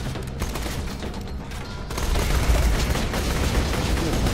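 Dense gunfire from Borderlands: The Handsome Collection comes as rapid, overlapping bursts. It is loud and close, thickens into heavier sustained fire after the midpoint, and has no voices.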